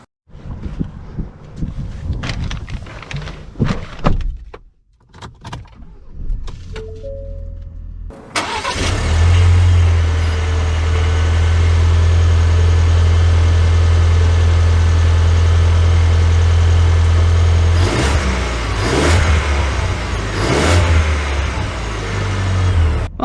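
A 2022 Ford Ranger XLT FX4 pickup truck starts up, its engine catching after a few seconds of quieter sounds, then settling into a loud, steady idle and run close by, with occasional revs.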